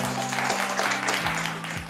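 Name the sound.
audience applause for a team at a singing game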